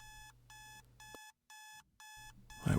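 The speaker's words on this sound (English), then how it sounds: "My alarm." An alarm clock rings in loud, evenly spaced electronic beep bursts with short gaps between them, ending in a brief rustling noise.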